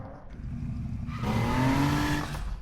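A BMW engine revs up in a racing video game, its pitch climbing steadily after a quieter opening and holding a loud, sustained whine to the end.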